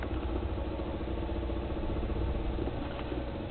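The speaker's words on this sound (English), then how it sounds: "Now you can hear the engine running from the generator." A generator engine runs steadily outside a shed, a continuous mid-pitched idling drone with faint clatter, close and fairly loud with no talk over it.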